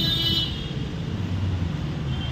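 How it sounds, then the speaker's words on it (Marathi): Steady road traffic on a Mumbai road, a continuous broadband rumble of passing vehicles at moderate loudness with no voices. "ट्रॅफिक आहे."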